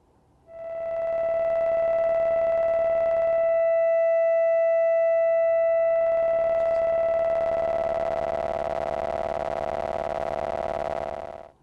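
A steady, droning synth tone from a Lorre-Mill Double Knot, its oscillator ring modulated by a short clicky envelope, holds loud and even for about eleven seconds with shifting overtones and no voices.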